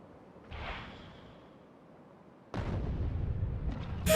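Nuclear bomb explosions in the video game Factorio: one deep boom with a fading rumble, then a second louder blast that rolls into a sustained heavy roar, with no talking.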